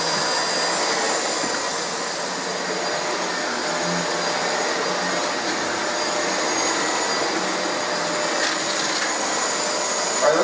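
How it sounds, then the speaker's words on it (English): A Shark Rotator vacuum cleaner running indoors, a steady loud whirring motor drone with a high whine that holds unbroken throughout, close to the listener, with no one speaking. "why don't you vacuum a little bit in here"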